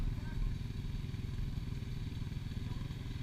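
Yamaha YZ250FX dirt bike ridden nearby, a steady pulsing engine drone with a low rhythmic throb, moderately loud throughout, with a voice partly heard over it.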